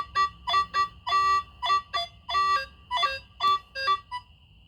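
Metal detector beeping tones in a quick, uneven series of short pulses, alternating pitches between two separate targets, fairly close and clear.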